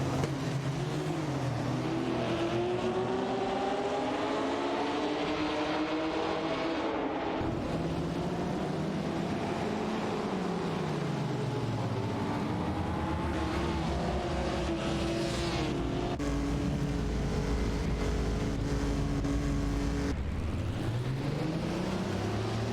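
Race cars in a racing video game roar continuously at close range, engine pitch climbing and dropping with gear changes and cornering, with no talk over them.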